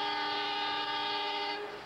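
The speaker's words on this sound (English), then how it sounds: "Johnson is part owner of the Iowa Traction Railroad, 9 whole miles of rickety track between Mason City and Clear Lake, Iowa" A train horn on the Iowa Traction Railroad, an electric line running nine miles of rickety track between Mason City and Clear Lake, Iowa, sounds a sustained, chord-like blast close by for about a second and a half before cutting off over background rumble.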